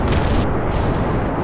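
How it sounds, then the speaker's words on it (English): Rocket explosions in Kerbal Space Program make a loud, dense, continuous rumbling boom that fills the whole moment with no gaps. "Loud explosions."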